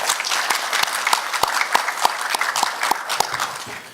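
A forum audience gives sustained applause to two panelists after a discussion, a steady wash of clapping with a few sharp individual claps standing out, moderately loud and without speech.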